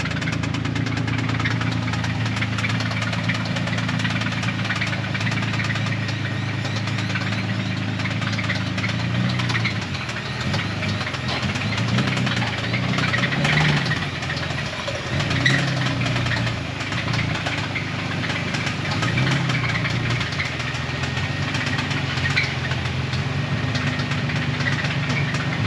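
A Ford Ranger Raptor pickup engine idles steadily for the whole stretch, a loud, rough low rumble with a faint knocking texture and no voices.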